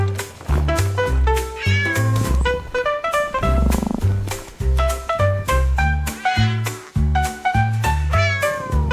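Repeated musical cat meows sung in a melodic pattern over a bouncy instrumental backing in a children's song, loud and continuous, like a tune made of meows.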